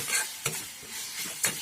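Turmeric, chilli powder, cumin, coriander and meat masala frying in hot oil for potato curry, a soft continuous sizzle broken by two or three quick spatula scrapes, close and unaccompanied by speech.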